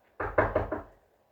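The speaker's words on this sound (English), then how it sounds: "They bang on the door. They go like this." Four heavy knocks bang on a door in quick succession, loud, close and booming, then fade into silence.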